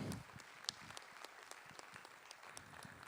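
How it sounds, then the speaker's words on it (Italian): Faint, distant audience applause for an ambassador at a formal conference, a steady patter of many hands clapping with individual sharper claps standing out, heard alone without speech. "facciamo un applauso all'ambasciatrice Luisella Pavan-Wolf"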